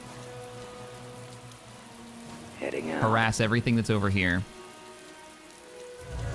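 Rain falls steadily across a Star Wars strategy video game battlefield, a constant wash beneath in-game voices and a brief burst of game sounds and music.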